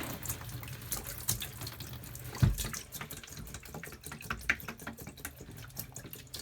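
Pink RV antifreeze poured into camper plumbing lines during winterizing, a steady low gurgling liquid stream with splashy trickling and one louder glug partway through, alone with no talking.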